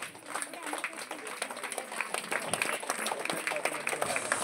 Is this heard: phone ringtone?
no